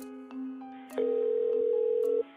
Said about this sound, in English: Desperate to locate Tanya, Tom makes an emergency phone call